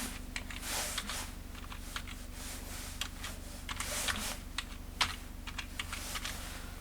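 Rapid, steady clatter of keys on a computer keyboard while an online application form is being filled in, close and clear with no talking.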